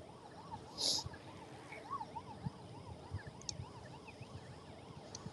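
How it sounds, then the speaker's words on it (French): An ambulance siren wails, rising and falling steadily in the distance, faint under background noise, with a brief louder burst near the start. "C'est une ambulance."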